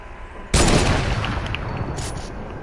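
Loud burst of video game gunfire erupts half a second in, a dense sustained volley of shots that continues steadily to the end with no voices.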